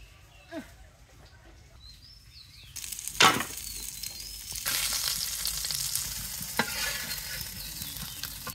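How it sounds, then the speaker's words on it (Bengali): Pieces of karfu fish fry in oil in a wok. Quiet at first, the scene is broken by a clatter, then a loud, steady sizzle swells up and holds, with a few sharp scrapes on top. "এখানে মাছ রাখছি কড়াইয়ের মধ্যে, অতগুলো একবারে আটে নাই।"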